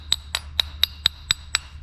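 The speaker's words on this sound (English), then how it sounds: "Now, as far as the hammer and dolly technique goes," Seven sharp, evenly spaced metallic taps of a hammer striking a dolly held against the steel fender sheet metal of a 1952 Willys Jeep pickup, close and clear over a low hum.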